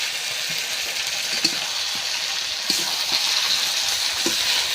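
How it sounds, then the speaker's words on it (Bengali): Large pieces of meat sear and get stirred in a hot pan while being cooked down for kosha, a steady close sizzle broken by a few spoon scrapes and knocks. "মাংসটা ভালো করে কষিয়ে নিয়েছি"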